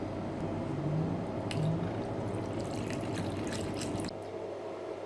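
Water is poured over white sorghum and rice soaking in a bowl, making a steady close splashing and trickling with soft squishy sloshes. The pouring stops abruptly near the end, leaving quieter dripping.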